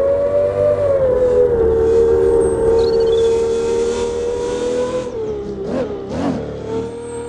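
A yellow toy racing car sound effect: a loud, continuous engine whine that revs and holds steady, then dips and surges near the end, with no talking.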